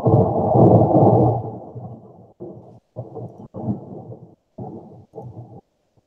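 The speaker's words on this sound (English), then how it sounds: "The thunder's coming for you." Thunder sound effect played during a live broadcast, a loud low rolling rumble that breaks into choppy, stuttering bursts before fading out.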